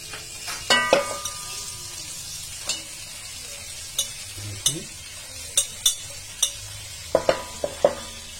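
Fresh spinach leaves tipped into a hot pan for a rajma-spinach dish, sizzling steadily while a spoon scrapes and stirs in a series of sharp clinks and knocks, close and moderately loud, no talking.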